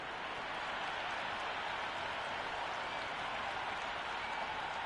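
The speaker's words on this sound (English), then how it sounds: "already the crowd making a hell of a racket" A steady, dense roar of a stadium crowd cheering and clapping in the Cricket 26 video game before an India vs West Indies T20 World Cup match, continuous and fairly faint throughout.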